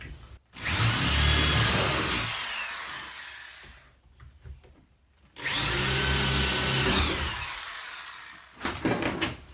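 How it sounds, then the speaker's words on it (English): A power drill whines loudly for several seconds, drilling along the edge of a framed window opening, pauses, then bores again in a second long burst, with clunks of handling between. "I'm going to go ahead and drill those now"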